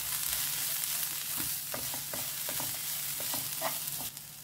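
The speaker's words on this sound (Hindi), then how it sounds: "अब इसे अच्छे से मिक्स करते हैं।" A spoon stirs a spiced kingfish cutlet mixture with garam masala and salt in a hot pan, giving a steady faint sizzle broken by a series of light scraping and clinking strokes, with no talking.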